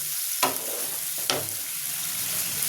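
Cumin, chilli, turmeric and ginger pastes fry in hot oil with a steady close sizzle, while two quick scrapes of a spoon stirring stand out.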